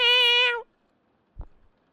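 A person voices a single drawn-out, tonal cat meow imitation, followed after a pause by a faint low thump.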